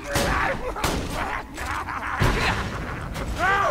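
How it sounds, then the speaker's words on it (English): Explosive rocket launcher blasts from Borderlands 2, a run of loud booming bursts with whooshing tails spread across the moment, ending on a rising synthetic whine. "Oh my god, I love this rocket launcher."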